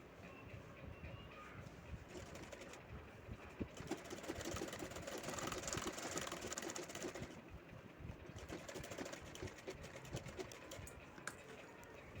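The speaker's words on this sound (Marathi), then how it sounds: "आता ही शिलाई आपल्याला खाली पूर्णपणे सरळ घ्यायची आहे" Sewing machine running steadily as it stitches a straight seam, a continuous dense mechanical whirr with a brief slowdown midway, close and fairly quiet.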